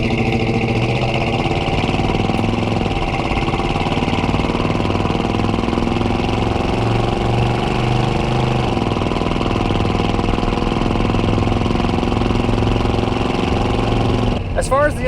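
A 1981 Ford F-250 4x4 with a 351M V8 and automatic transmission runs on a test drive, a steady, loud low engine drone from inside the cab that persists throughout, ending in a brief clunk.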